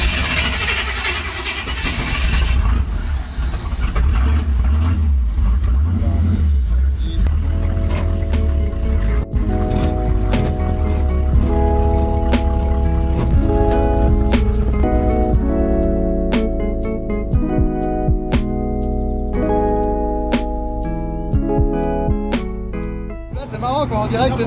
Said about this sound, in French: on va déjà aussi se régaler juste avec le bruit du moteur au démarrage